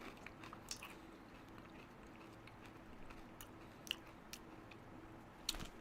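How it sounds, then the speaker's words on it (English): Faint, close mouth sounds of someone chewing dip with their mouth open: scattered wet clicks and smacks over a quiet background hum, with no talking. "I can only chew with my mouth open to annoy you."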